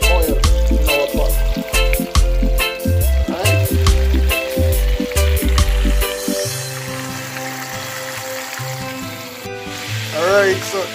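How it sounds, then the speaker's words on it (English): Chicken fries in plenty of oil in a pot, giving a steady sizzle under loud music throughout. "we're gonna go in with our chicken now. As you can see, we keep frying"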